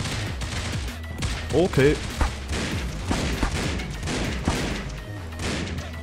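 Shotgun fire in the mobile shooter Critical Ops, a string of sharp blasts and loud gunfire bursts under continuous game noise, with a player talking over it.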